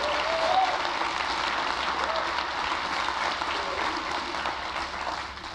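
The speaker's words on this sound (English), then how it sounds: "Let's give them a big round of applause." A large audience at a county government State of the County address in Oakland County applauds steadily for service staff, a dense, sustained wash of clapping that holds level throughout and thins slightly at the end.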